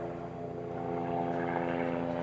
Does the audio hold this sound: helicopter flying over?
yes